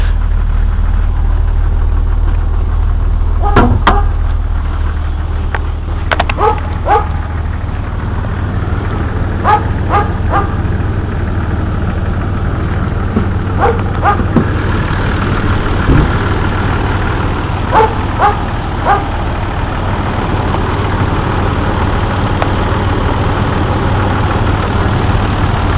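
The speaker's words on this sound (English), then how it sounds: "Very strong running engine." A 1996 Jeep Grand Cherokee 4x4 with the 4.0 straight-six idles with a steady, deep low rumble throughout, and several brief faint metallic clicks or taps are heard over the running engine.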